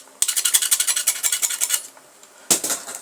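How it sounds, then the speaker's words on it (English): A knife scraping the tip of a soldering iron while wiring a speaker crossover: a run of quick, rough rasping strokes for about a second and a half, then a pause and one final loud scrape, close and alone. "Let's first clean up our soldering iron. Sorry, I'm using knife."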